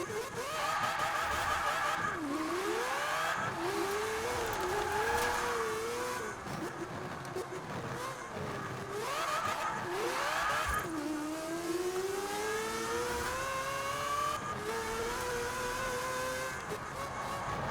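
Mazda RX-7 rotary engine in a Forza Horizon 4 racing game, revving loudly and continuously with rising and falling pitch sweeps through gear changes, buzzy and dense throughout with no pauses.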